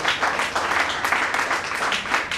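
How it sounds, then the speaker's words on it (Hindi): A crowd gives sustained, dense applause honoring unnamed mothers at an Independence Day gathering on 15 August, the clapping steady and loud throughout with no pauses. "उन सब अनाम माताओं के लिए एक बार जोरदार"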